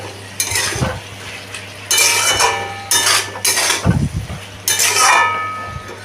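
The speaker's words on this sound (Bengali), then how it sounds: "আমি মশলার সাথে কিন্তু এটা ভালো করে কষিয়ে নিচ্ছি" Turmeric and ground spices stir-fried in a pan for a vegetarian mochar ghonto, a spoon scraping and clinking against the metal in repeated bursts with a soft sizzle underneath.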